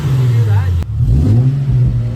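Nissan/Infiniti G37 with a Kyostar cold air intake, its engine and exhaust revving in a loud, close, steady low drone with a brief dip before building again, with voices talking over it.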